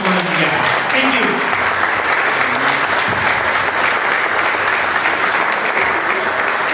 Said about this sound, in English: a big round of applause for each one of you guys